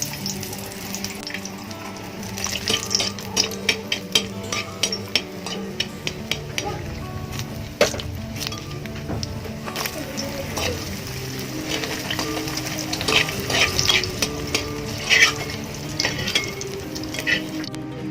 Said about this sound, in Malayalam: ഇനി നമുക്ക് കുറച്ച് അണ്ടിമുന്തിരിയും കൂടി ഈ എണ്ണയിൽ തന്നെ ഒന്ന് ഫ്രൈ ചെയ്തെടുക്കാം